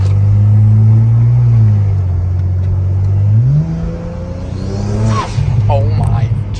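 A BMW N54 engine with Stage 2+ hybrid turbochargers pulls hard from inside the car, a loud droning rumble rising in pitch through the gears, with turbo whistle and excited voices talking over it.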